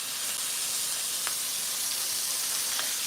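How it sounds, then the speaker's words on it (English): Smash burger patties fry on a hot griddle with a steady, fairly quiet sizzling hiss, broken by a couple of brief sharper crackles, and no one talking. "start frying up."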